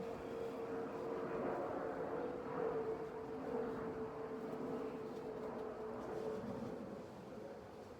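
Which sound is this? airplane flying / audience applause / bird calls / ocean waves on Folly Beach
airplane flying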